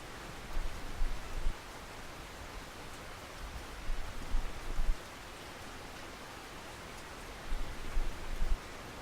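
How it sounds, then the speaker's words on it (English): Rain falling at Mosquito Lake in the video game Russian Fishing 4, a steady soft hiss of rainfall with a few low rumbling swells, no voices over it. "So was it stopping raining or something?"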